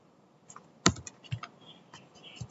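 A few sharp clicks of keys pressed on a computer keyboard for a paste shortcut, close and fairly quiet, spaced unevenly over a couple of seconds with no talk.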